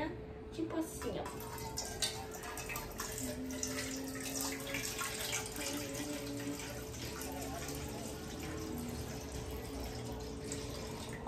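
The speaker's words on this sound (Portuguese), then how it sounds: "Primeiro você pega uma aguinha, tipo assim, ó." Water runs from a tap into a container to make strawberry gelatin in a home kitchen, a steady splashing flow lasting several seconds, with a voice talking over it.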